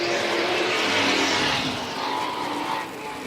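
Vintage modified race car, number 61, roars steadily past at speed, a loud sustained engine drone that fades slightly toward the end.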